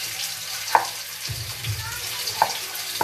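Chicken deep frying in a pan for a herby summer stew, a soft continuous sizzle with a few sharp pops and clinks over low background rumble.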